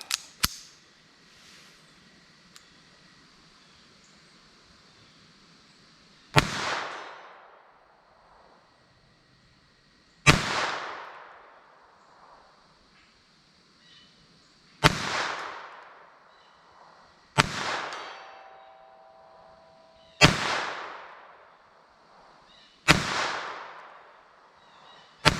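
Norma TAC-22 .22 rimfire shots fired at a steel silhouette target outdoors: six sharp, loud cracks spaced a few seconds apart, each with a ringing decay, over quiet background.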